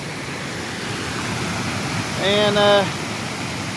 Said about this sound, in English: I'll put up a couple of shots of the creek after the flood